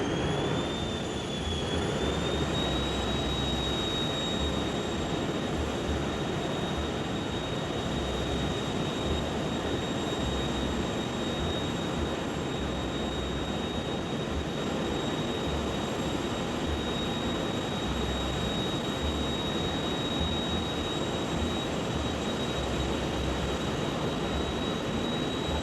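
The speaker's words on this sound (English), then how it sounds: "You can hear the whine of that jet engine spooling up." A steady high-pitched jet engine whine that rises slightly at first, then holds loud and continuous over a dense roaring rumble, no voices.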